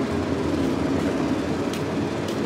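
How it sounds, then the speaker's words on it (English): A train passes at night, heard as a steady, loud broadband rumble with low droning tones and rolling noise throughout, with no voices present. "I hear that train."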